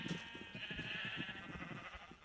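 Sheep bleating in Minecraft, a run of wavering, overlapping bleats repeating steadily and clearly up close for a couple of seconds with no talk.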